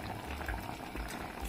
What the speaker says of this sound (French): Vous couvrez, vous laissez mijoter à feu moyen pendant environ je pense une demi-heure